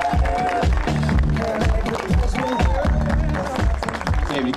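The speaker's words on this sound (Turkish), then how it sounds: "Evet, bir alkış alabilir miyiz onlar için?" An audience at an offroad challenge event claps for the guests, the applause loud and busy but partly blended with voices and tonal background sound.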